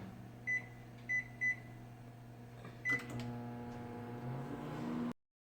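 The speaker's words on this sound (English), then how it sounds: "you got to put it in the microwave for 5 minutes on high" A microwave oven cooking spaghetti squash on high hums steadily while several short beeps sound, a few at the start and one near the end, before the hum stops abruptly.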